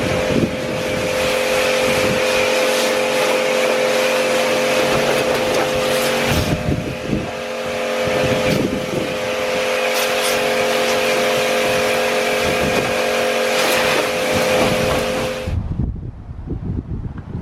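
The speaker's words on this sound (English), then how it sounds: "now all is left is to jet wash the whole thing again" A pressure washer jet-sprays a car in a loud, continuous hiss with a steady motor whine, briefly wavering as the spray moves, then cutting off near the end.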